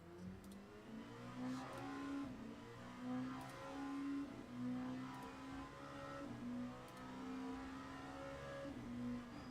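Racing cars drone and rev steadily, their engines rising and falling in pitch over several passes, with a continuous mechanical hum. The sound is fairly faint and distant, as if heard through speakers.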